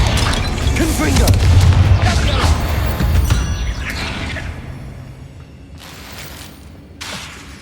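Booming Confringo blasting-spell explosions in the Hogwarts Legacy video game, a dense run of loud blasts and crashes over the first few seconds, then fading into quieter rumbling with a couple of later bursts; a voice talks over the opening.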